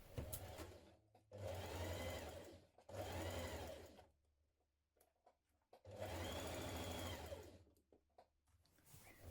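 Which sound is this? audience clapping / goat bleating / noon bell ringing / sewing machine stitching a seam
sewing machine stitching a seam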